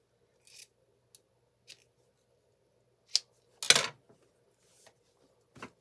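Scissors trim excess fabric while a shirt is sewn, with a few soft, sparse snips and one louder, crisp cut in a quiet room.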